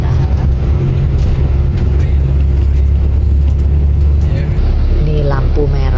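A city bus rides through Sydney street traffic, its low engine drone steady and loud from inside the cabin, with a brief whine near the end.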